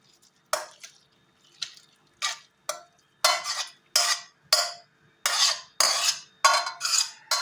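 A capelin preserve with onion and carrot is stirred in a bowl, making a close series of about a dozen wet, squelching scrapes in steady rhythm, separated by short pauses.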